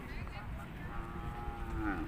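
Cattle low at a busy cattle market selling Thai, Charolais and Angus beef cattle, one drawn-out moo rising and bending near the end over a dense murmur of crowd noise and distant voices.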